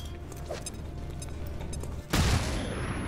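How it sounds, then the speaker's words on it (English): A flashbang grenade goes off in XCOM 2, a single loud, broad burst about two-thirds through after quieter background game sound, leaving a sustained roar afterward. "We flashbang those two."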